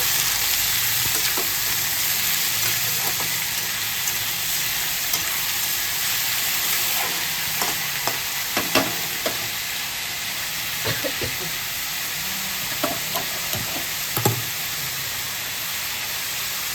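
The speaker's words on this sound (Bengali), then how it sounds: "ভালো করে নেড়ে দিচ্ছি।" Food frying in a pan with a loud, continuous sizzle throughout, while a utensil stirs it and makes occasional light scrapes and taps against the pan.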